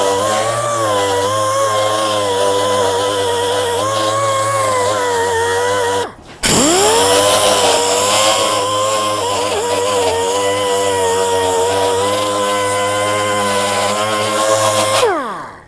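Power sander, an 80 grit single-action then dual-action polisher, grinding across stainless steel: a loud, steady droning whine with strong harmonics that stops briefly near six seconds, then restarts and runs on until the end.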